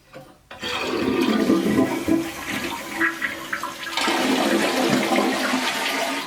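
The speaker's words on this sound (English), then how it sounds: "Much stronger flush." A toilet flushing after a rocking toilet was fixed, opening with a sharp clunk, then a strong, sustained rush of swirling water that stays loud and full as the bowl drains and refills.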